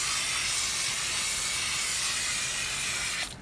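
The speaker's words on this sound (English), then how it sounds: "You can spray it down and get all the big stuff off." Water sprays steadily onto an outdoor air conditioning unit being cleaned, a loud continuous hiss that holds without break and then drops away at the end.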